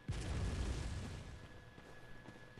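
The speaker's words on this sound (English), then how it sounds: "Oh, a cannon." A cannon fires in the video game Bloodborne, a deep rumbling boom that starts abruptly and decays over a couple of seconds, fairly faint and with no voice over it.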